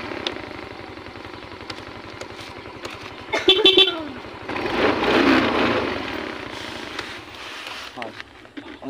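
A Yamaha Mio i 125 scooter engine with a charging or regulator fault idles steadily close by, its low putter carrying through the clip while a person talks over it.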